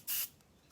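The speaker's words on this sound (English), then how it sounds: "I'm gonna use my spray." One short, sharp hiss from a spray can, close by and loud, ending quickly and followed by quiet room tone.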